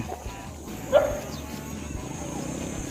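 A single dog bark rings out at a distance over steady outdoor background noise.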